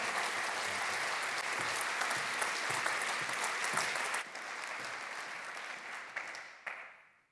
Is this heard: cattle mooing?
no